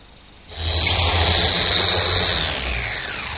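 A router fitted with a 1/2 inch bit eases the top edge of a Queen Anne table top, starting abruptly after a brief pause and running as a loud, steady, high-pitched whine close by, with no talk.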